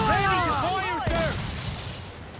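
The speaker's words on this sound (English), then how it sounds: "He's lobbing mortar shot on us." Mortar shots fire in a naval video game, with booming launches and whistling, sweeping tones arcing overhead, loud and close, then a fading rumble.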